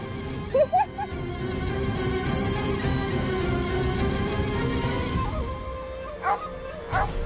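A person's voice imitates a dog, giving short yelping barks near the start and again near the end of a Hindi TV drama scene, over steady background music.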